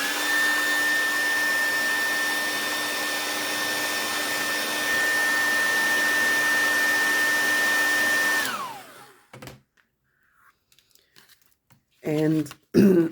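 A hair dryer blows steadily and loudly on a reused Christmas gift bag for about eight seconds, then spins down and stops, followed by bag crinkling and brief handling noises.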